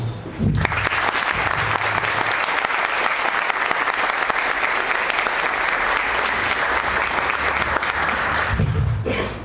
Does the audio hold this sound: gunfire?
no